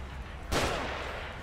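A single sharp gunshot rings out in the survival horror video game The Evil Within, a loud sudden burst followed by a short decaying tail, with no talk over it.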